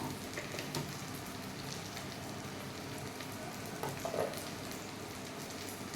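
Onion frying in a pan with garlic, ginger and green chilli for a chicken dish, giving a soft, steady sizzle with faint stirring scrapes, low and even with no talk.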